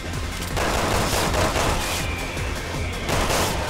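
Heavy gunfire from the Elephant Killer magnum in the Resident Evil 6 video game, The Mercenaries co-op mode: loud repeated blasts in quick succession with booming tails, filling the short clip without voices.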